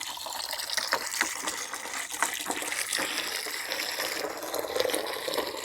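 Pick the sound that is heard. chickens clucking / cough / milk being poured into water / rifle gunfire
milk being poured into water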